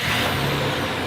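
A car engine with a suspected blown head gasket runs at a steady, loud, close roar with a hissing rush on top and no break through the whole short stretch.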